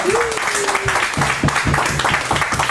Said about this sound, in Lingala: On peut les applaudir très fort pour cela.